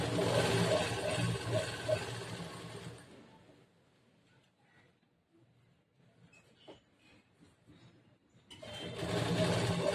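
A sewing machine stitches along a fabric border edge in two close, steady bursts of motor whir, with a quieter pause of light handling noises between them.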